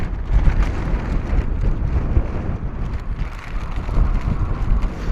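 Strong, steady wind roars and buffets an outdoor microphone at Bristol Airport, a constant low rumble with no voices or clear aircraft noise.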